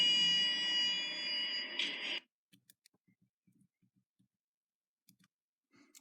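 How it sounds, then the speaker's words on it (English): Lift control panel beeps: a steady high electronic tone lasting about two seconds, followed by quiet scattered clicks and light taps in a hydraulic passenger lift. "Oh, it also has a button beep."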